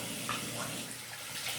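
Tap water running steadily into a sink as someone prepares to shave, a soft continuous hiss and splash at low level.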